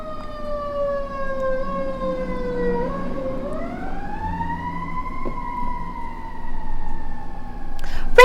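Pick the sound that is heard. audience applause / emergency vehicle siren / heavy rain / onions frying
emergency vehicle siren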